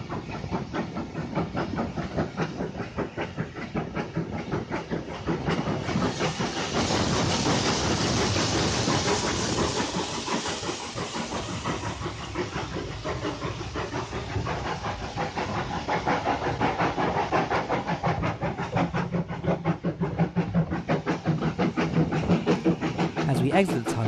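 A heritage steam train runs through Heath Hill Tunnel on the Telford Steam Railway, a continuous loud rumble and hiss with rhythmic clattering of wheels, swelling as it enters the tunnel; a voice is faintly present.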